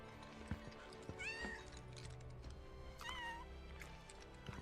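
A cat in Final Fantasy VII Rebirth gives two distinct, rising meows a couple of seconds apart, soft and fairly near against a quiet game ambience.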